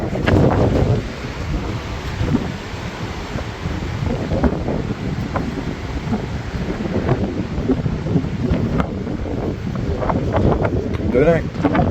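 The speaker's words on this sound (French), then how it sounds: "Ils annonçaient des tempêtes de vent jusqu'à 95 km/h où ce qu'on est." Loud, gusty storm wind of up to 95 km/h in Spain buffets and roars continuously, surging and easing in uneven waves over a rushing, water-like background.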